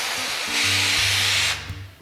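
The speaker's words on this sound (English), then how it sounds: "I have just like a really beat up piece of cardboard here that I'm gonna spray on." Snow flocking texture spray from an aerosol can hisses onto a beat-up piece of cardboard in one steady burst of about a second, with a mechanical hum running underneath.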